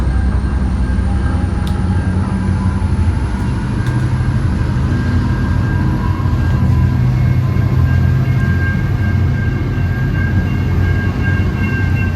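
Swan Hill V/Line N set passenger train running to Bendigo, a loud steady rumble of wheels and carriage noise throughout with a faint high whine, no voices.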